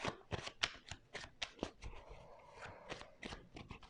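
Homemade oracle cards are shuffled by hand, making quick papery riffles and soft slaps in a rapid, uneven run of bursts, close and fairly quiet.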